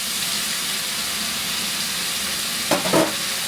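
Paprika, chili powder and salt are stirred into a pot of cowboy baked beans with browning meat. A steady, close sizzle runs throughout, and two quick spoon scrapes come near the end.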